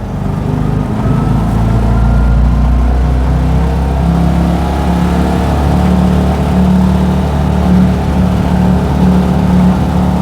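A 1959 BMW Isetta 300 microcar's small engine droning loud and close inside the car while double-declutching down into second, a steady low buzzing hum with slight shifts in pitch and no voices.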